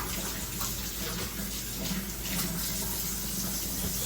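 Tap water running steadily into a sink while hands are washed in a kitchen, a continuous close splashing hiss with no talking.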